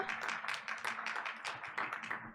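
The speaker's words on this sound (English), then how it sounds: "Give them a round of applause" Applause for school liaisons at a school board meeting, a round of rhythmic hand clapping from a seated audience, fairly quiet and distant, with a faint steady hum underneath.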